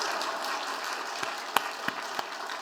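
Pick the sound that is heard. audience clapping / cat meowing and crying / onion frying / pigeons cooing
audience clapping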